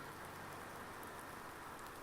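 Steady rainfall in Farming Simulator 19 makes a continuous, even hiss of drops on surfaces, constant in loudness throughout, with no voices.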